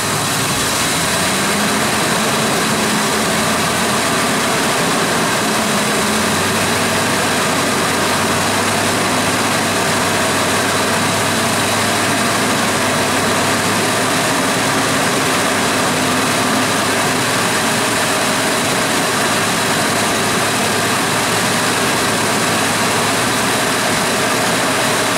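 A Ford car engine runs at raised revs of about 1500 RPM during an air-conditioning check, giving a loud, steady drone that holds for the whole stretch, with a dense hiss over it and no talking.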